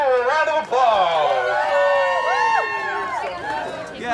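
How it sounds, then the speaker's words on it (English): A crowd cheers at an armadillo race at Armadillo Palace in Houston, Texas: many overlapping voices whoop and shout with rising and falling pitches, loud and sustained for several seconds, with a brief dip before the roar builds again. "Give Andrew a round of applause."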